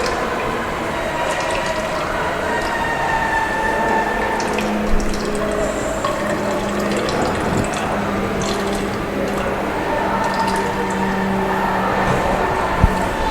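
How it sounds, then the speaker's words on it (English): Solution is poured steadily into a laboratory beaker during a silt-content test on sand, a continuous close liquid trickle and splash lasting throughout, with faint clinks and no talking. "I am going to add 100 more ml of solution"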